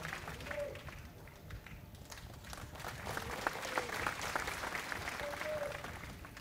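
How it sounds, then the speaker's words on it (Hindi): Crowd applause at a political rally for Chandra Sekhar Azad in Bhubaneswar, a sustained, fairly distant wash of many hands clapping with voices calling out over it. "इनके लिए जोरदार तालियां बजाते रहो"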